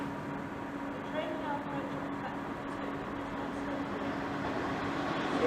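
Class 315 electric train rumbling steadily past Romford station, a faint, distant continuous hum and rail noise with a low whine, slowly building toward the end.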